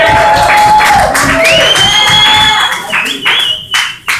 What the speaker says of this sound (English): we can clap, we can cheer for that